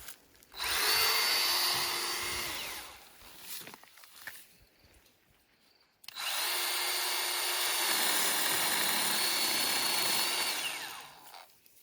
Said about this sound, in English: And I've cut trees down as big as this if I work my way around it.